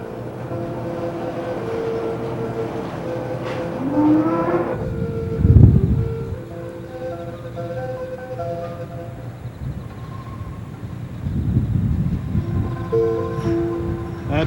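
Cattle in a lineup moo several times, loud and fairly close, over a steady mechanical drone from a large fan blowing through the barn, with no talk.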